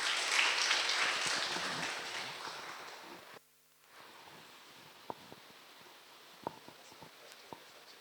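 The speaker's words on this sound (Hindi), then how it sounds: "हम स्वागत करते हैं पास्टर शंकर का ज़ोरदार तालियों से" A congregation at a Sunday evening church service applauds to welcome a pastor. The loud, dense clapping fades out quickly and gives way to quiet room sound with a few scattered taps.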